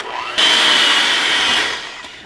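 Electric mixer whirring steadily through sweet potato cake batter, a loud continuous buzzing drone that starts abruptly and runs for about a second and a half before easing down, with no talk.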